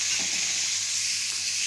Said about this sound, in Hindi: और इन सबको अच्छे से भून लेंगे।